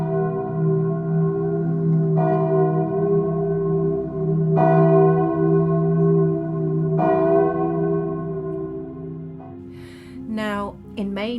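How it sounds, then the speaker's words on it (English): Deep church bells toll slowly three times, their rich tones ringing out and lingering, before a voice begins speaking near the end. "you can still, once again, hear its bells ringing underwater as you sail by"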